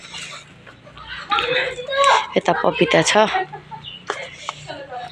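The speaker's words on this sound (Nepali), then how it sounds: "मेरो कुखुरा चाहिँ कराउँदैछ ओथाराबाट भर्खर निस्केको" A hen clucks loudly and repeatedly just after leaving her brooding nest, with a person speaking over the calls at close range.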